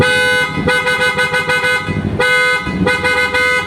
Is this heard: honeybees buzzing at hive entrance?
no